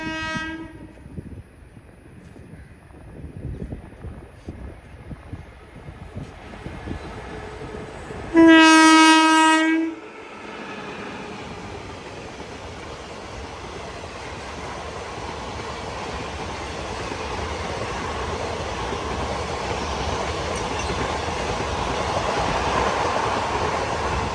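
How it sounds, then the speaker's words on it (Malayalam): An Intercity passenger train arriving at a station in Kerala on the Mangaluru Central line, a loud sustained horn blast lasting about two seconds, then a rising rumble of wheels and carriages rolling closer. "അതും ഏകദേശം ഈ ഒരു ഭാഗത്ത് എത്താനായി ഇൻ്റർസിറ്റി വരികയാണ്"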